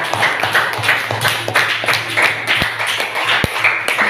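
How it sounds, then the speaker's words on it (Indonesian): Classroom applause from schoolchildren for a student group: quick, rhythmic clapping that sounds close and fairly loud, with a couple of sharp knocks partway through. "tepuk tangan untuk kelompok 3"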